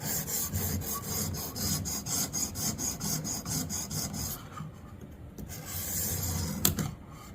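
A knife edge stroked across the stone of a Xarilk Gen3 sharpener, a quick regular run of rasping strokes for about four seconds, then quieter scattered scrapes and one sharp stroke near the end.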